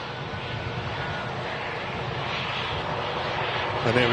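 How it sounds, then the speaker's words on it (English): A Singapore Airlines Airbus A350-900 taxis at Manchester Airport, its engines giving a loud, steady, broadband roar that swells slightly toward the end. A voice talks beneath the noise. "We've also got another Singapore Airlines A350 900 on the taxi out as well."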